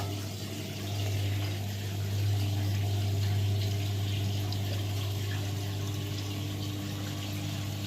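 Mixed saltwater pouring into an aquarium sump, a steady rushing and splashing fill over a constant pump hum, close and fairly loud throughout with no talking.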